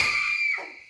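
Woman's high, piercing scream from a film, loud and sustained for under a second, then trailing off and dropping in pitch.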